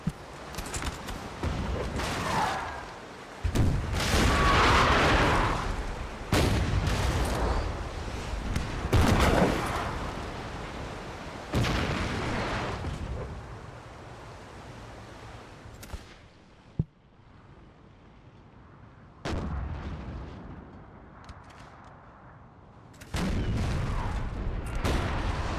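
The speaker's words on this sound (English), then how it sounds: "And they're going to fire as they bear in a second. It's going to be brutal." Warship broadside cannon fire in Napoleon Total War, a heavy naval battle of many ships, with repeated deep booms and rolling volleys at irregular intervals, some loud and some more distant, separated by quieter gaps.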